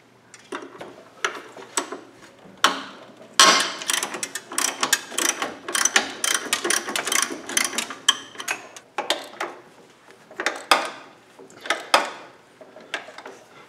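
A ratchet works a 15mm nut on the serpentine belt tensioner of a Jeep Cherokee, with bursts of rapid clicking in irregular runs that stop and start, close to the listener.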